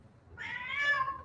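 A house cat meows once in a drawn-out, rising-and-falling cry, quiet and slightly distant, standing alone against a faint background hum.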